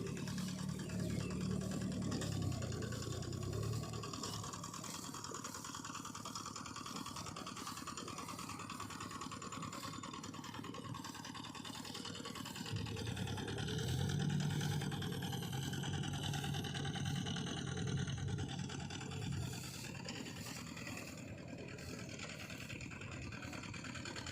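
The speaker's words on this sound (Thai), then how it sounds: "รถไถเดินตามนะคะ" A walk-behind tractor engine chugs steadily in a rice field, a continuous mid-distance mechanical drone with a low throbbing rhythm that swells slightly at moments, heard alone without talk.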